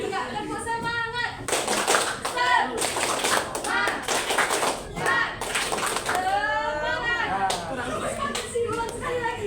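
Children perform a rhythmic Indonesian spirit clap, tepuk semangat, in a classroom, clapping in bursts of quick patterned claps under loud group chanting.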